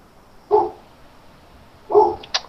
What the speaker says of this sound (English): Oh, doggy dog.